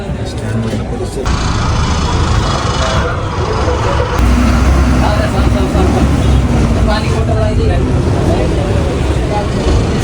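An MSRTC ST bus pulls out of the Dapoli bus stand past the market opposite, its engine a loud steady rumble heard from inside, with chatter from passengers over it.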